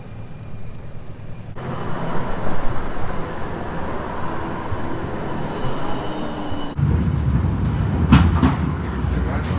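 A tram rolls by through a busy street in Amsterdam, its steady rumble and wheel noise filling the scene, growing louder and heavier toward the end.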